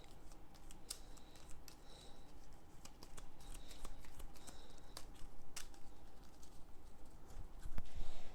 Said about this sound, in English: I'm only shuffling the tops of these because it's mostly the thematic cards